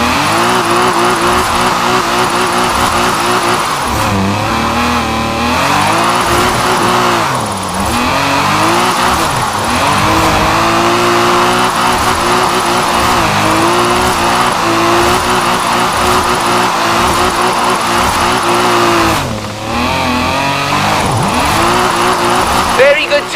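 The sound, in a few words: car drifting in Forza Horizon 4 video game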